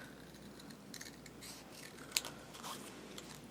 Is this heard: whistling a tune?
no